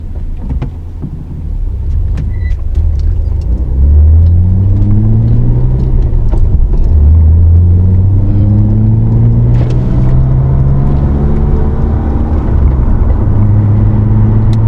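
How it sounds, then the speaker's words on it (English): Nissan Skyline R34 with a powerful engine pulling away from a standstill, a loud, close roar that climbs in pitch through several gear changes and settles into a strong, steady run. "Very powerful engine, just wants to pull straight off the mark."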